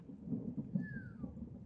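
Thunder from a moderate thunderstorm rumbles low and continuously in September, with a brief rising-then-falling tone crossing the roll partway through.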